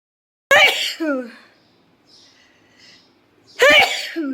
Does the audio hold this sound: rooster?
no